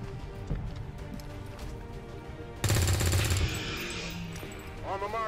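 Gunfire in the turn-based strategy game XCOM 2: War of the Chosen with the Long War mod, a sudden loud burst of rapid shots over game music, fading into echoing tail and ambient effects.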